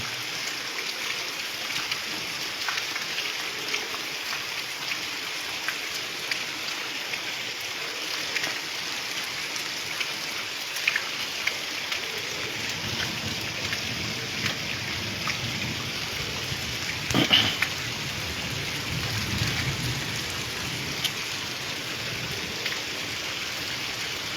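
Heavy midday monsoon rain pours steadily at Talwandi Sabo, a dense, even hiss of rain on surfaces that swells a little in the second half, with no voices.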